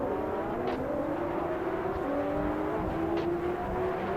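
GTR race cars pulling away from the start at Monza in a racing video game, a dense bed of engine drone with rising whine tones from several cars accelerating together, steady and loud throughout.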